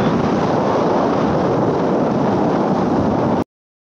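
Strong wind at the seaside buffets the microphone in a loud, steady roar at the water's edge, broad and unbroken before cutting off abruptly near the end.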